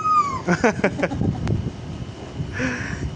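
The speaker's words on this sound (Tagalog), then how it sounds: "Parang pusa." Several short cat meows in quick succession, followed by a pause and one more drawn-out meow, with faint room noise between.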